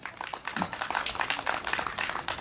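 A crowd at a candlelight rally in Seongju applauds a performer, dense clapping held steady at moderate level and slightly distant.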